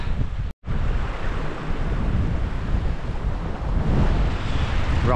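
A rocky mountain river in the Mourne Mountains rushes in a steady, loud broadband roar, with gusts of wind buffeting the microphone throughout and a brief dropout near the start.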